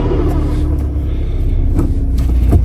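A 2019 Skoda Octavia 1.6 TDI with an 85 kW diesel engine, driving in fifth gear with a fifth-gear fault, gives a steady, loud, low engine rumble and road drone from inside the car throughout.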